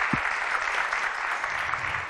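An audience claps steadily for a conductor and orchestra on a live television show, a brief, even burst of dense applause at moderate volume.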